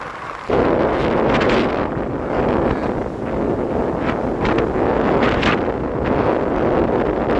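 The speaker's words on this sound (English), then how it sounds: "look at the waves crashing." Waves on a Chicago lake shore whipped up by strong wind: a steady, loud roar of surf and gusts buffeting the microphone throughout, with no clear individual breaks and no talking.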